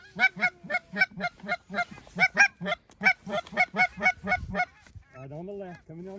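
A flock of wild geese during a goose hunt in Oklahoma gives a rapid string of loud, close, rhythmic honks, about three per second, before the calls thin out and a single drawn-out call trails off. Quiet talk sits underneath.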